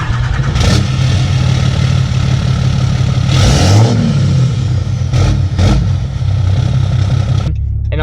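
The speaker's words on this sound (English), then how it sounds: "He does have an exhaust on this truck, so it sounds very," 2012 Ram 2500 with a 6.7L Cummins diesel and aftermarket exhaust, loud and close, rumbling steadily with a few sharp revs rising and falling before it cuts off abruptly near the end.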